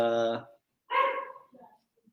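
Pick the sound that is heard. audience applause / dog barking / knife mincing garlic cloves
dog barking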